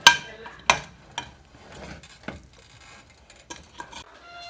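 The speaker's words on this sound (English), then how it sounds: "you mix the top rice with the gravy" Biryani rice being mixed with gravy in a pot gives a few sharp utensil scrapes and clinks against the metal at the start, then softer, sparser stirring knocks, close and fairly quiet, with no one talking.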